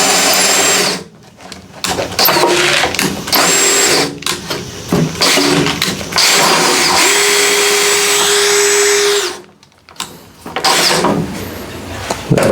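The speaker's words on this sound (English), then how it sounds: "you take your electric or cordless drill" A loud electric drill whirs in long bursts with brief pauses, cracking grain for distilling, its motor grinding steadily and close by.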